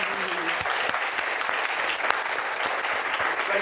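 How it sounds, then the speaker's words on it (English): Audience applause for a discussion panel: sustained, dense clapping from a sizable crowd, loud and even from start to finish with no voice over it. "let's give a round of applause for our great panel here"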